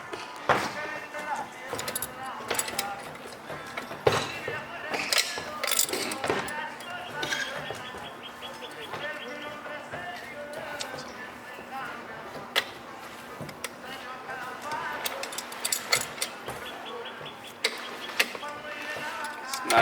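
Roofing work on a neighbouring house produces scattered knocks, clinks and creaks, distant and irregular, under steady background music and some voices.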